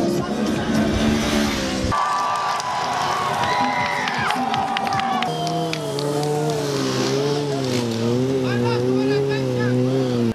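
Motorcycles rev and roar loudly at a stunt riding safety demonstration, engine pitch rising and falling in sweeping waves over a cheering crowd and continuous background noise.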